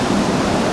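A creek waterfall near Mount Hope, West Virginia, rushes with a steady, dense broadband roar, close and unbroken for the whole brief moment.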